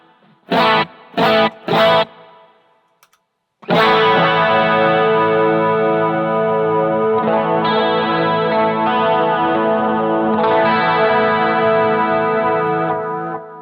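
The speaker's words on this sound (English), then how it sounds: "So that's what a carbon copy sounds like" Electric guitar run through an MXR Carbon Copy analog delay pedal, three short muted stabs and then sustained strummed chords ringing loudly with echoing repeats trailing behind.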